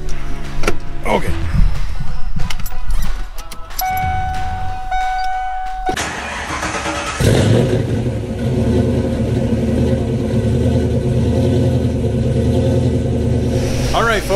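Cammed 5.0 Ford Mustang Foxbody engine catches after a brief startup and settles into a steady, loud, close rumbling idle with a lumpy cam pulse, while a person talks over it early on.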